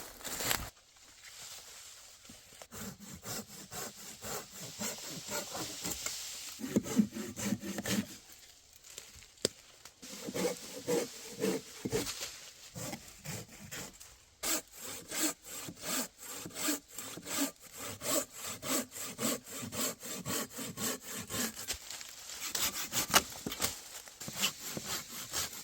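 A hand saw cutting firewood from a dead tree at a fall hunting camp, rhythmic back-and-forth rasping strokes close by, coming in bursts with brief pauses between runs of sawing.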